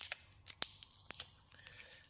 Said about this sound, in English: Unwrap this little mount.